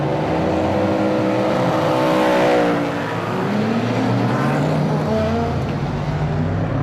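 GT race cars, led by a Corvette with a McLaren alongside, roar past together at the start of the final race on a wet Assen circuit, engines loud and rising then fading with spray hiss, no talk.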